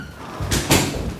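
Two quick knocks land on a back hallway door, a dull pair of raps a moment apart, fairly close against a quiet room with no talking.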